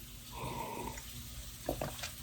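Water runs briefly from a kitchen tap into a sink, a steady splashing stream under quieter room noise, followed by a couple of short clinks and knocks.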